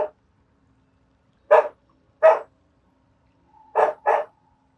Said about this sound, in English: Why is a dog barking?